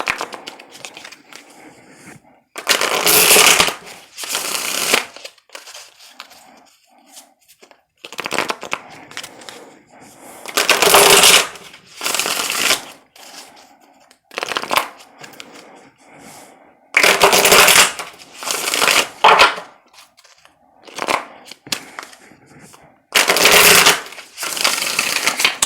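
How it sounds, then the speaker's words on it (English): Tarot cards being shuffled in repeated bursts of crisp riffling and flicking, close and loud, separated by short quieter pauses with soft handling noises. "Let's pull some tarot to clarify these cards."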